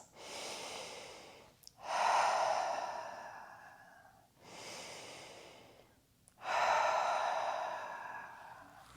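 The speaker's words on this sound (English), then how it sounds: "Let the elbows hang and just breathe here for a couple of breaths." During seated yoga practice, a person breathes slowly and close by, taking two full breath cycles. Each soft inhale is followed by a longer, louder, airy exhale, with quiet pauses between.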